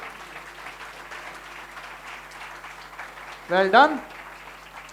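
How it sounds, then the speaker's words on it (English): Audience applause at an inter-school general knowledge quiz final on stage, a steady spread of clapping throughout, with a brief spoken comment near the end. "Keep the applause going while they come up and take their places on stage"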